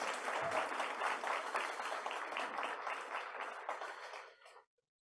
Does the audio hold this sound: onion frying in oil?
no